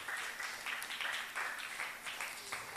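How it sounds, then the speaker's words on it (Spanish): A church congregation applauds steadily and fairly softly, a dense patter of many hands clapping together after a call to praise the Lord during a Spanish-language service. "Dale un aplauso al Señor."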